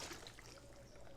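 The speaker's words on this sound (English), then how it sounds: "here we're gonna add water" Water trickles steadily into a pot of fish soup seasoned with paprika, salt, lemon, pepper and garlic, a soft continuous pour close by with no talking.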